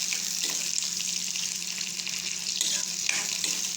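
Cloves and bay leaf frying in a hot wok give a steady, close sizzle with a dense hiss throughout, a few faint clinks and stirring touches breaking through briefly.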